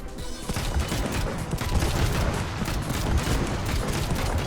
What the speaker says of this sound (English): Fires your rotary cannon.